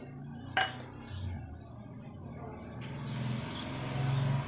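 Dry coconut pieces drop into a mixer jar with a sharp clink near the start, then light scraping and handling knocks follow as lemon chilli powder is made.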